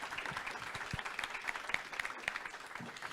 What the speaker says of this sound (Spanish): Les brindamos el aplauso a las tres.